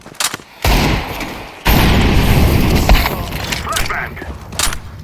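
A decoy grenade in Counter-Strike: Global Offensive goes off as a string of loud, sharp gunfire-like pops and bursts, with heavy booms near the start and quieter cracks continuing behind.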